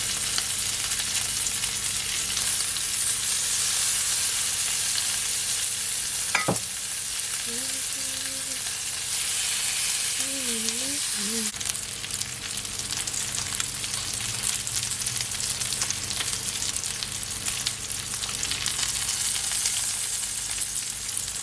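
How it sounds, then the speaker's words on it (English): Garlic butter lamb chops fry in a hot pan with a constant close, dense sizzle and crackle, broken once by a brief sharp clink and a few short faint tones, and no talking. "now I'm gonna add my lamb chop and I'm gonna fry it for at least 4 minutes"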